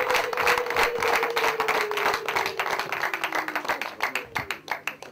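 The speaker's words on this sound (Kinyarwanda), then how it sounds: "nanjye reka nsabe umuryango wacu maze Theogene mumumpera amashyi menshi" A crowd gives Theogene warm applause at a family gathering: dense, steady clapping with a sustained tone underneath, thinning toward the end into more distinct, rhythmic claps.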